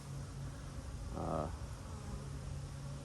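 A low, steady insect drone fills the clip, with a brief louder buzzing swell near the middle, like bees humming close by in the bottom of a hive.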